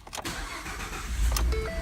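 A white 2014 Ford F-150 XLT pickup starts up close by, with a short cranking whir that catches into a low engine rumble and settles to a steady idle, with a few small chimes near the end.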